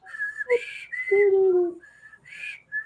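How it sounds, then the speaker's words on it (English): A person whistles the Jeopardy music in a few short, clear phrases with brief gaps between notes, close and alone. "I was trying to whistle the Jeopardy music"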